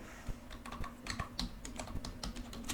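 Close, crisp taps on a computer keyboard while code is typed, an irregular run of quick keystrokes and a few heavier hits over a steady low hum, with no talking.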